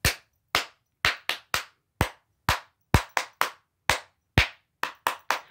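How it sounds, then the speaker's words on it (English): Bare hands clap crisply and loudly in an uneven rhythmic pattern, about fifteen claps, close up against near silence, with no talking. "And let's do our claps."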